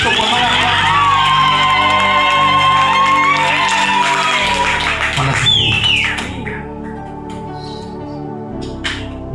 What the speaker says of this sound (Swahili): Haya ndo makofi ya mtu kupata ujauzito kwa mara ya kwanza.